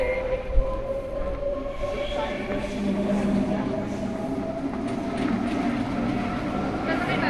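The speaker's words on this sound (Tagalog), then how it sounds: "Ayun yung train." A train passes at a station platform in the Netherlands, a steady broadband rumble with tonal hum that holds evenly from start to finish, fairly close and moderately loud, with a faint voice now and then beneath it.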